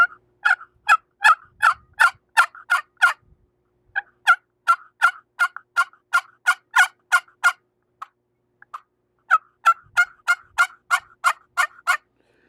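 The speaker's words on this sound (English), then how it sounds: "a good cluck and a yelp that gobblers sometimes can't resist." A wild turkey call rings out in three rapid runs of sharp, raspy notes, loud and close, separated by short pauses, with no talking.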